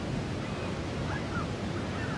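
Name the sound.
Niagara Falls waterfall roar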